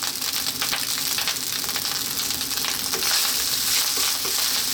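Steady loud sizzling of rice frying on high heat, with scraping and tossing sounds as it is stirred, continuous and close.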